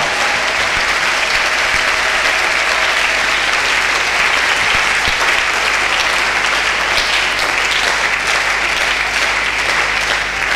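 A church congregation at a worship service claps continuously and loudly. The thick, even applause carries faint cheering mixed in and keeps going without a break.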